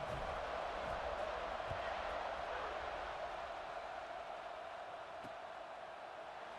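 A steady, even roar from a stadium crowd in an American college football video game, heard after a touchdown as the kickoff unit takes the field, constant and broad with a faint thump or two.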